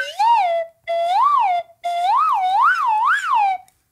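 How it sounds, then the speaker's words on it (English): A slide whistle from a children's fire truck song plays three rising-and-falling glides, the last one wavering several times up and down, loud and clear with short gaps between phrases. "I love the slide whistle."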